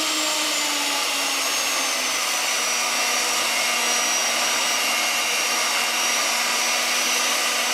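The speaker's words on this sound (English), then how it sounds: "We're going to use a cake mixer to mix this one up." Electric cake mixer whirring continuously at high speed while mixing mould material, a loud, even motor drone with a slightly falling pitch, close up and alone.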